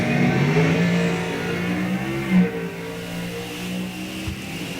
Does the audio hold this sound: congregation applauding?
no